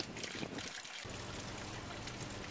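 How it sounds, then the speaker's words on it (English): A small water spitter trickles steadily into a garden pond, a soft continuous splash heard close up and alone, with a brief dip near the start. "Here's our beautiful water feature, a little spitter coming right down into the pond"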